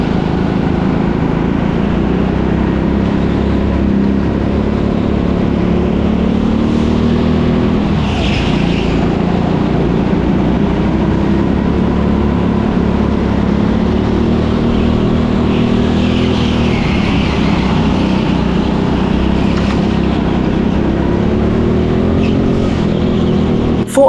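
Go-kart engine on an indoor track at a TeamSport Leicester session, a steady loud onboard buzz that rises and falls through acceleration and corners for the whole stretch, with no talking.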